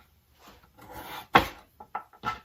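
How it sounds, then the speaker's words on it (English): A knife chops sweet potatoes into rough half-inch pieces for a slow-cooker soup, with a few close, separate cuts, one sharp and loud, the others lighter, and quiet rubbing between them. "We're going to chop these sweet potatoes, just kind of a rough chop"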